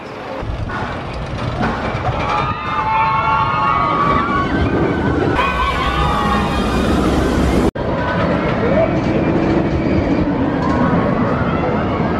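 The Texas Giant roller coaster at Six Flags Over Texas: a steady rumbling roar of cars on the track, with shifting whine-like tones and clatter and a brief cut near the middle, with voices faintly underneath.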